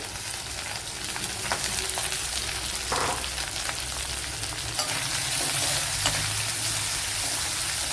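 Chopped onion and a green chilli sizzle loudly in hot oil in a pan, a dense continuous frying hiss close up with occasional stirring scrapes, and no one speaking.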